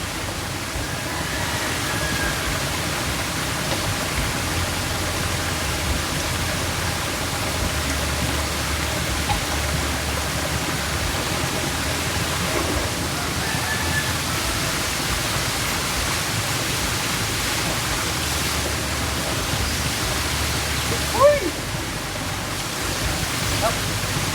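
A mountain stream flows steadily with a dense, continuous rushing wash, close and fairly loud throughout, with no clear speech over it.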